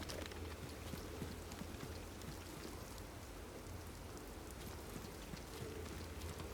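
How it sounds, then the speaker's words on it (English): Steady rainfall in the video game Outpost Infinity Siege after a blizzard gives way, a continuous even hiss of drops with a low rumble beneath, no voices. "So the blizzard has now turned into rain"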